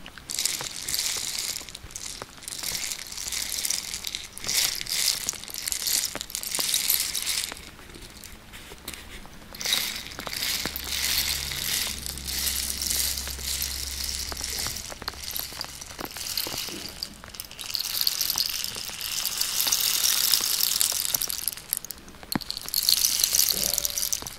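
A continuous rattling cascade of tiny pellets, like a rain stick, hisses and crackles steadily for a long stretch, with occasional faint low rumbles.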